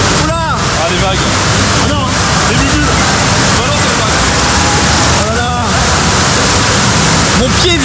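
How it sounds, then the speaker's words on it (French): Artificial waves churn and slosh in an indoor hotel water park wave pool, a loud continuous wash of water with surges, while people talk and call out nearby. "Ah les vagues."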